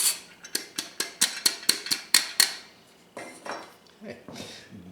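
Flour is sifted through a sieve for light, gluten-free-friendly corn fritter batter, giving a quick run of sharp, evenly spaced metallic taps. Brief pauses break the taps, then scattered softer scrapes and rustles follow.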